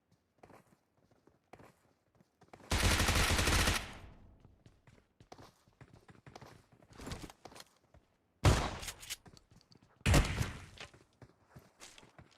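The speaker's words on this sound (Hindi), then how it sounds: "पंप शॉट गन लैंड होगी सीधा हाइड्रो के ऊपर." Shotgun blasts in a battle royale video game: a long loud burst of gunfire early on, then two sharp, heavy reports later, separated by quieter footsteps and in-game movement sounds.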